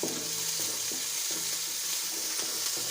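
Chopped onions fry in a pan for macaroni, a steady bright sizzle with regular scraping stirs repeating about every half second, close and continuous with no voices.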